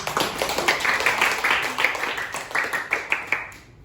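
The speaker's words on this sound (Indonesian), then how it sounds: "Tepuk tangan teman-teman." A school class applauds in a classroom after a lesson, with a burst of many hands clapping in quick, uneven rhythm, fairly close and clear, thinning out and fading at the end.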